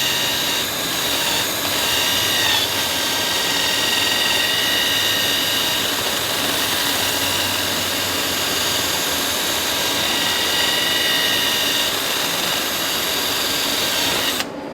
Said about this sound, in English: I'll turn my fan on and let it blow over that port and cool down